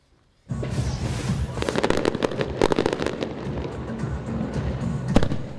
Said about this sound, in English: We could see the fireworks right here from the First Coast News newsroom.